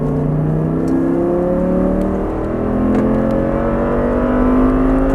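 An Audi R8 engine pulls at full throttle on a track, loud and close. Its pitch climbs steadily through the rev range, with no speech over it.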